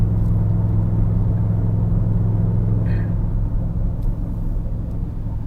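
A Ford 7.3 Godzilla truck towing 6500 lbs up a mountain grade at low RPM gives a steady, deep engine drone and low hum throughout, with a short faint squeak midway.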